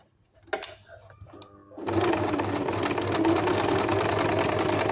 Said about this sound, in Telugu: కింద నుంచి ఈ విధంగా స్ట్రైట్గా కుట్టేసుకుంటూ రావాలి.